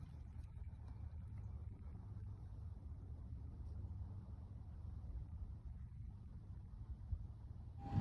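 Engine of a 2016-or-later Honda Ridgeline or Pilot running at idle, a steady low rumble heard up close and alone, even in level from start to finish with a slight bump right at the end.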